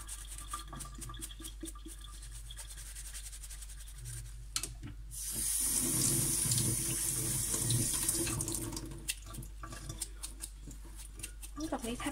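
Mushrooms are washed by hand under a running kitchen tap, a close, moderately loud stream of water with rubbing and handling sounds in the middle, surrounded by quieter rustling, clicks and a steady low hum.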